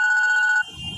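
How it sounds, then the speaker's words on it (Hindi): Telephone ringing with a steady electronic bell tone, loud and close for about half a second, then cutting off into low background rustle. "तभी मन्नू का फोन बजा।"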